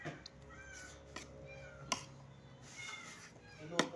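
A cat meows faintly several times while eating, with thin, drawn-out cries under low background noise and occasional sharp clicks nearby.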